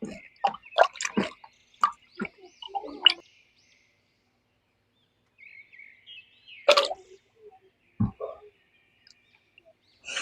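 Aloe vera gel is rinsed in water by hand: scattered splashes, drips and sloshes come in quick bursts, then quieter gaps with a couple of isolated louder splashes.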